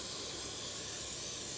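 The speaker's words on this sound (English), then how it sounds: "so I got some carburetor cleaner" Carburetor cleaner is sprayed onto the S&S carburetor of a 1993 Harley-Davidson Dyna Wide Glide, giving a continuous close hiss with no pauses.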